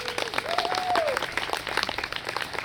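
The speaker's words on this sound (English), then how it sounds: "So give him a round of applause if you could." A theatre audience at a Macbeth stage production claps in a brief round of applause, a dense burst of hand claps with a tonal whistle-like sound rising over it early on.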